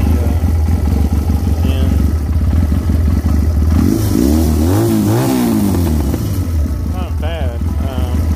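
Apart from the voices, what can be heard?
Chinese 250cc ATV engine running after carburetor cleaning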